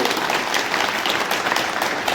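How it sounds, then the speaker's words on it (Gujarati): A crowd at an Aam Aadmi Party rally in Babra claps loudly and steadily for a police officer, in a brief, dense burst of applause. "પોલીસ અધિકારી માટે જોરદાર તાળીઓ થઈ જાય"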